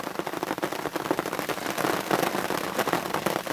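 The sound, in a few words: rain falling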